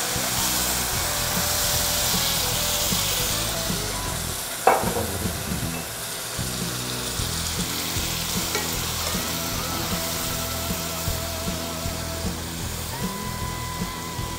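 Red wine hitting a hot pan of seared ossobuco, a loud, steady sizzle and crackle close up, with a sudden clatter partway through and continuous frying afterward.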